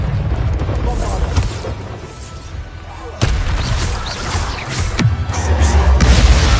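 Bombarda spell blasts and other combat effects in a Harry Potter-style video game: loud booming impacts land at intervals over a dense rumbling background, with a sharp hit near the middle and continued heavy rumble.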